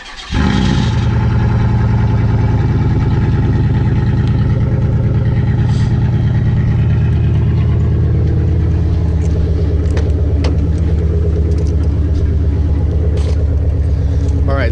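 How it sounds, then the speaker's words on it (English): A 2004 Chevy Duramax diesel truck engine cranks on a cold start and catches, then idles loudly nearby with a deep steady rumble and clatter. "let's get a cold start"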